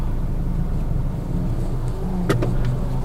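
A 2016 Suzuki Ciaz 1.2 with a four-cylinder engine runs smoothly at a steady low hum, close and constant, with a faint click or two near the end.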